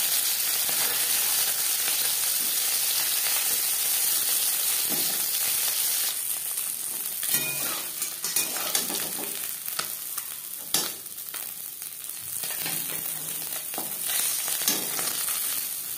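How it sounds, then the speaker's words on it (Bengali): Steady oil sizzling of parshe fish frying fills the clip, with occasional clinks and scrapes of a utensil stirring in the pan; no voices. "প্রথম ব্যাচের মাছ ভাজা হয়ে গেছে"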